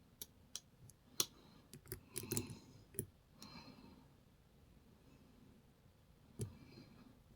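A Basi CX6 lock held in a vise is being picked. Faint, close, irregular small clicks and ticks are scattered over a quiet background, with a brief cluster near the start and one isolated click later.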